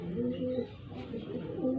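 A pigeon coos in low, soft repeated hoots while being dosed with a lincomycin capsule for a throat infection, close and clear with someone talking over it.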